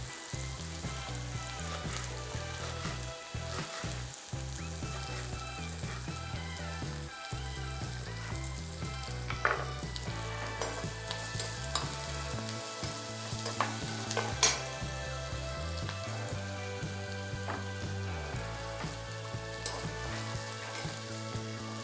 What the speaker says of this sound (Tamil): இதை சிம்மில் வச்சுட்டு இதை வதங்கட்டும்.